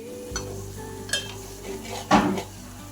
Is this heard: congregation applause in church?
no